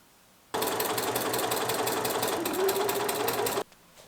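A sewing machine runs a 1 cm seam along the sides of a fabric envelope case, starting abruptly and rattling at a fast, even stitching rhythm for about three seconds before stopping cleanly.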